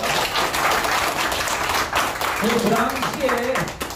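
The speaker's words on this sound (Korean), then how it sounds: "박수 한번 부탁드리겠습니다" An audience at a workers' lecture about a shipyard subcontract workers' strike claps steadily, a dense wash of applause throughout, with a voice speaking over it toward the end.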